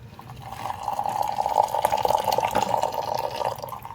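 Liquid poured into a cup in a steady, continuous stream lasting several seconds, close by and moderately loud, with no voices over it.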